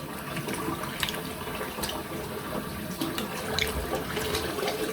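Tap water runs steadily into a bathroom sink for a cold rinse after a wet shave, a continuous close splashing hiss with no speech over it.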